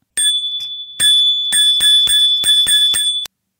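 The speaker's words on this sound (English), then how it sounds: "Dame Belinda first enters on a tricycle and hears the tricycle bell." A bright metallic tricycle bell rings loud and close, struck in a quick series of about eight rings with a sustained high tone between strikes.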